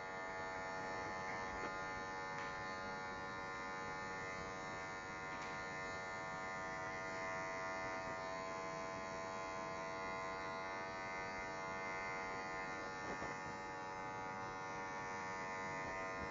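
Electric hair clippers buzz steadily while cutting a skin fade at a barbershop. The tonal motor drone is close and constant throughout, with a few faint clicks and no speech.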